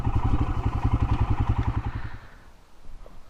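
Royal Enfield Himalayan motorcycle engine thumping close and loud in a fast, even pulse, then dropping away to near quiet after about two seconds.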